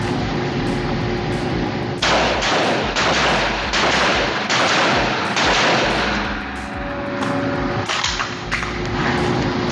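Suppressed shots from a CLAW combat light assault weapon ring out in a rapid series of sharp cracks, close and loud, with short bursts and pauses between them.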